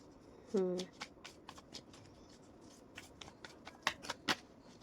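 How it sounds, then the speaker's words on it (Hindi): Tarot cards riffle and slap against one another in a close, crisp shuffle, with a handful of quick flicks and taps as cards fall, while a person talks over the clatter. "खुद से कार्ड्स गिरे हैं।"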